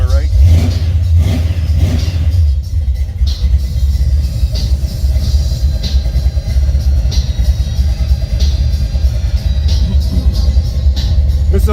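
A Buick 455 Stage-1 482 cubic inch V8 revs loudly and close up, a deep continuous rumble with repeated throttle blips, while someone talks over it now and then.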